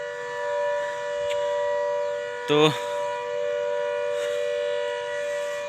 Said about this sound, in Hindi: ये जो आप सायरन सुन रहे हैं नहर के खुलने का है।